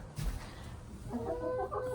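Backyard farm chickens cluck close by in a short, irregular run of calls over light outdoor background noise, with nobody talking.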